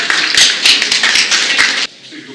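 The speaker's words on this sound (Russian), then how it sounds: "Аплодисменты!" An audience applauding at a junior chefs' competition in Moscow, dense close clapping for under two seconds that then stops abruptly.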